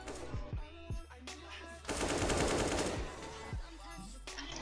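Rapid gunfire in a shooting video game, bursts of automatic fire and single shots cracking in quick succession, loud and close, with a short dense volley in the middle.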